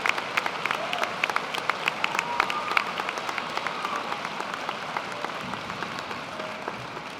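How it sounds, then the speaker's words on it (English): A graduation commencement audience in the stands applauds the faculty: sustained, dense clapping from a large crowd in a big hall, steady and fairly distant, without voices over it. "Could you turn towards our faculty and give them a round of applause?"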